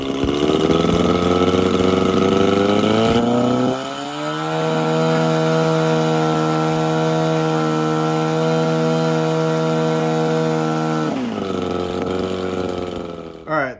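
A DLE 222 gas engine on a model airplane spins a Bella 3212 pusher propeller, a loud steady buzzing drone that rises in pitch, holds at high revs, then drops back near the end.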